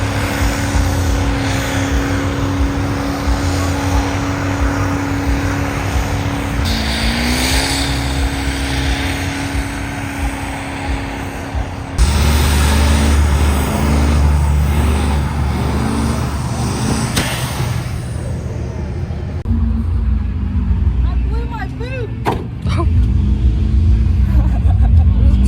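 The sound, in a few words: truck engine revving during burnout competition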